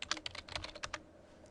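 Fingers type on a computer keyboard while entering student information into a database, a quick run of about a dozen close, crisp key clicks that stops after a second, leaving quiet room tone.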